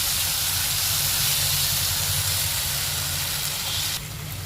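Water hits a frying spice paste for rohu fish curry, giving a loud, continuous steamy hiss that fills the clip and eases off slightly near the end, with no talk.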